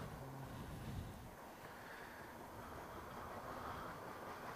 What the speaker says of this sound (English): Who doesn't love a train?